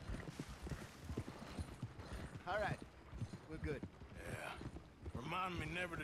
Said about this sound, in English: I like the white horse.